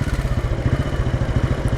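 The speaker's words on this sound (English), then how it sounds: "And you can hear the thump, thump, thump of the engine." A Royal Enfield Bullet 500 single-cylinder engine idles close by with the choke just off, giving a steady, loud low thump that repeats rapidly under a light mechanical clatter, with no voices.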